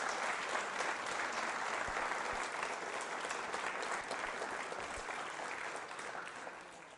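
A school audience at a quiz show claps loudly and steadily for a teacher, a dense, sustained wash of applause from a large crowd that tapers slightly at the end.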